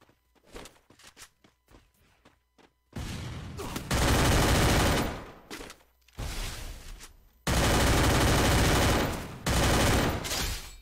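Gunfire in the battle-royale game Free Fire: scattered single shots and footsteps give way to loud sustained bursts of automatic fire, pausing between volleys, with no talk.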